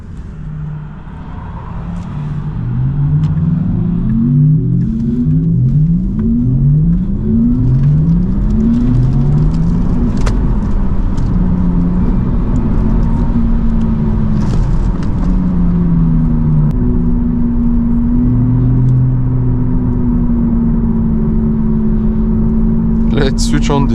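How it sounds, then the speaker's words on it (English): A Tesla Model 3 Performance plays an artificial Porsche Taycan eSport drive sound, a rising and falling synthetic whine that sweeps upward repeatedly then holds a steady tone, loud and continuous under a voice talking. "we have this sport sound. Currently installed in the vehicle, the Porsche Taycan eSport sound."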